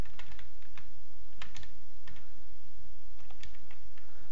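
Steady keystrokes on a computer keyboard as a username and password are entered, a close, even run of light clicks with no voices.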